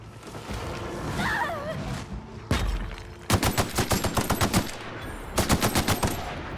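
Assault rifle fire in The Outer Worlds: a single sharp shot, then two rapid bursts of about a dozen close, punchy rounds each with a short pause between, following some faint background sounds.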